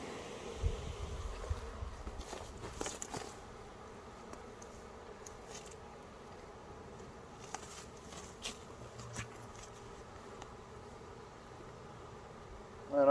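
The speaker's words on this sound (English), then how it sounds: "It's wall-to-wall bees." Honey bees swarm densely inside a swarm trap, their low, continuous buzzing steady and close, with occasional rustles and soft knocks layered over the hum.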